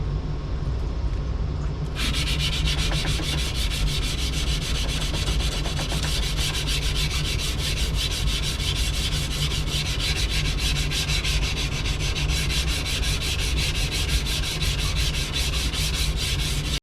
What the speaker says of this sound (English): I have the edge hand sanded now